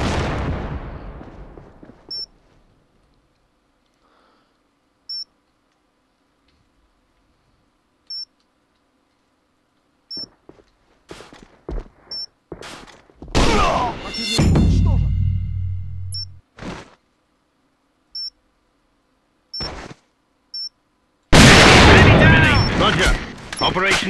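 Gunfire and an explosion in the AVA video game: sharp scattered shots and a dense burst of firing, a rumbling blast around the middle, and a loud closing burst, with short electronic beeps throughout.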